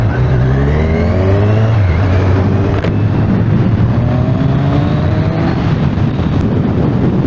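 A Kawasaki Z1000SX motorcycle pulls away and rides on, its engine note rising through the gears with loud continuous revving and heavy wind rush, close and dominant throughout.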